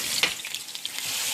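Ground pork hitting hot oil in a pan for a basil stir fry, a sharp steady sizzle that flares briefly as the meat lands, then crackles on without a break and without any talk.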